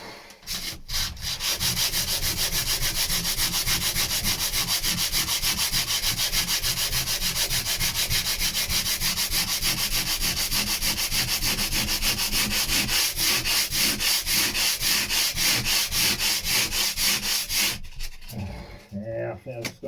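Continuous hand sanding on the underside of a wooden boat deck, a loud, close, rhythmic scraping rub with fast back-and-forth strokes for most of the clip before stopping near the end.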